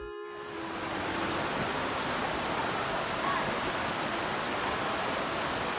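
A creek flows along a trail near Millcreek, a steady broad rush of water that starts after a brief silence and holds close and even throughout.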